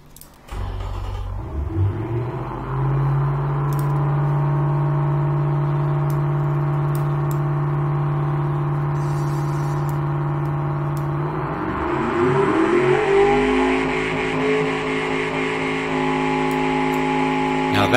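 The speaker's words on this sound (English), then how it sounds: "That's an engine." Car engine in the Automation car-building game starts up, settles into a steady idle hum, then revs higher around the midpoint and holds a louder, strained drone, with no speech over it.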